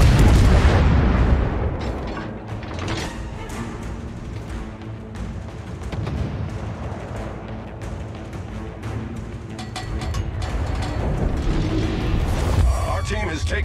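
Naval artillery fire in the World of Warships video game, heavy booms and rumbling blasts rolling continuously at close range, with game voice callouts over the action.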